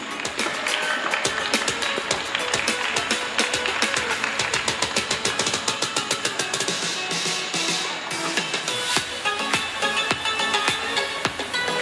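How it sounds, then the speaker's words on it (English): Audience applause fills an awards-night hall at the CPU Sigrab Film Festival 2024, steady and loud for about twelve seconds, with sharp clap transients throughout and a brief swell of denser clapping near the end. "Let's give a round of applause, please."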